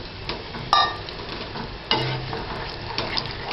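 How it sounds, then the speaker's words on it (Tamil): Tamarind water poured into a pan of sizzling eggplant gostu, making a steady frying hiss with two sharp bursts of sizzle as the liquid hits the hot pan, plus some stirring. "இப்போ வந்து இந்த புளியை ஊற்றிக்கலாம்."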